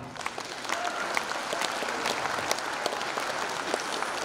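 Steady, dense applause from a concert audience fills the hall, a continuous wash of clapping with scattered sharper claps and no voices standing out.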